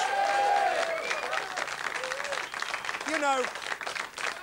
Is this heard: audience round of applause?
yes